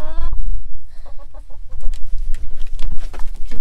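Chickens in a coop, clucking and squawking up close and loud, a rooster-like call at the start followed by a busy run of short overlapping clucks with no talking.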